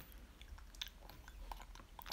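A baby tasting a first solid food chews and mouths it, with soft, faint, irregular smacking and wet clicks up close and no talking.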